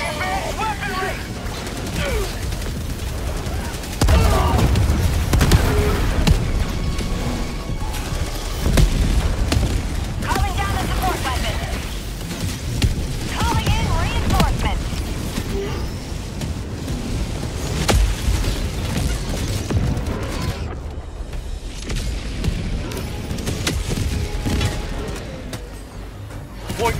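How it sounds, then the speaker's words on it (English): Heavy orbital barrage explosions in the Helldivers 2 video game, a dense run of loud booming blasts and rumbling impacts rolling on and off for the whole stretch with no letup. "Orbital barrage incoming."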